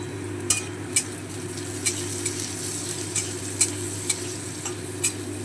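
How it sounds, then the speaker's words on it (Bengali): Carrots frying with salt in a pan, a constant soft sizzle under a low steady hum, punctuated by sharp, regularly spaced clinks of a utensil stirring against the pan. "গাজরগুলো একটু হালকা লাল করে ভেজে নেব"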